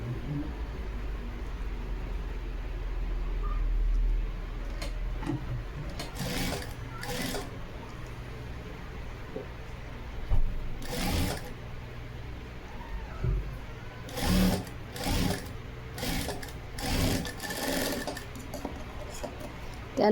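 A home sewing machine stitches piping onto a round garment neckline, running in several short, distinct bursts with brief pauses between them, as the presser foot is lifted repeatedly to follow the curve.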